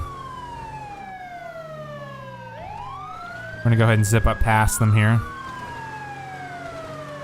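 A wailing police siren in GTA 5 sweeps up and down throughout as a cruiser responds code 3 to a vehicle collision, loud and close, joined midway by a brief burst of rapid yelp and horn blasts while someone talks over it.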